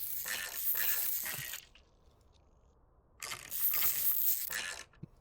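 Car parts unscrewed in the Car Dealer Simulator video game, where a loud ratcheting mechanical whir runs for over a second, stops for a silent gap, then repeats, ending with a small click.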